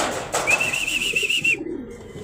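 A racing pigeon arrives at a loft during return training in San Miguel, Bulacan, with a brief flutter and soft coo-like calls near at hand, over a thin sustained whistling tone.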